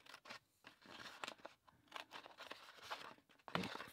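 Card stock being trimmed by hand for a Stampin' Up! notecard box, with a run of quiet scissor snips and paper rustles close by, ending in a slightly louder cut.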